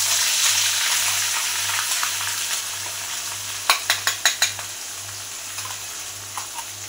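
Ground spice paste frying in hot oil in a pan for a Maharashtrian amti, a steady hissing sizzle over a low hum, then a quick run of sharp spoon taps and a few scattered clicks.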